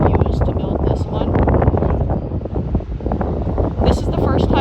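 Gusty wind buffets the microphone with low rumbling, under a person talking close by, at the Wildcat's Revenge roller coaster construction site at Hersheypark.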